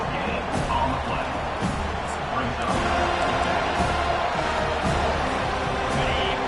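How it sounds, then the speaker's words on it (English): Loud, dense crowd roar fills a packed stadium at a Navy college football game as fans push for a fourth-down defensive stop, a steady wall of cheering with scattered shouts and whoops and no pauses. "This crowd busting the decibel meter and trying to will a 4th down stop"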